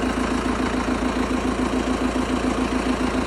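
An MTZ-892 tractor engine idles steadily, a close, even diesel chug with a regular low pulsing beat and no talk over it.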